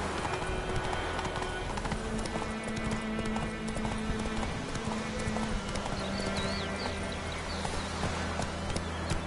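In The Witcher 3 the horse Roach runs at speed, and its hooves thud in a continuous rapid rhythm up close. Sustained background music and game ambience sit underneath.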